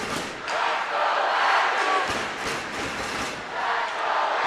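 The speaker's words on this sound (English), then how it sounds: "Utah State fans making their presence known, cheering on their squad" Utah State fans at a college hockey game against Weber State raise a loud, sustained crowd roar and shouting in an arena, swelling and dipping with thuds mixed in.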